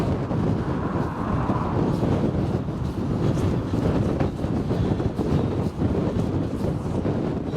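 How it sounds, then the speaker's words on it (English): Strong wind buffets the microphone on a coastal walk toward Sker Point, Porthcawl, producing a loud, constant low rumble with gusty swells throughout. "because it is really windy"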